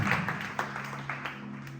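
A church congregation applauds during a full service, with a steady patter of claps and a low drone underneath that carry on for under two seconds and stay at a moderate level.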